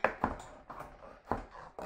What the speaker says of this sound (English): we'll just go on with the chopping method